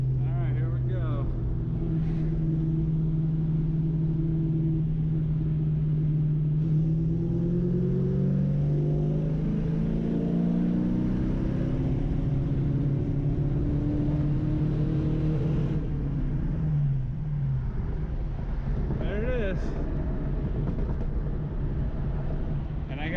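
A 1993 Ford Mustang Foxbody with a 5.0L V8, misfiring and cutting out at the rev limiter, revs repeatedly, its engine note climbing and falling in long sweeps over a steady loud idle-heavy rumble, close by.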